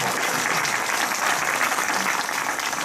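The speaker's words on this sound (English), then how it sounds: "A little round of applause" Audience applause at a UFO conference panel in Edinburg, steady dense clapping from a large crowd holding at full loudness for about three seconds with no talk.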